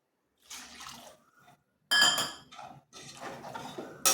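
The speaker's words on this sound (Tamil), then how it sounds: "ரெண்டு கப் தண்ணி ஊற்றிக்கிறேன்" Two cups of water are poured into a metal pot of Seeraga Samba rice for prawn biryani in three short splashing bursts, close by, with a few light clinks of the pot.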